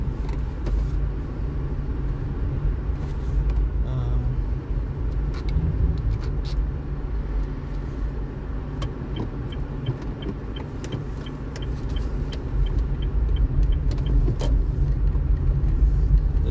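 A Honda Brio drives along in a residential area. Its engine and road rumble hold steady and fairly loud throughout, with light rattles and clicks from inside the cabin.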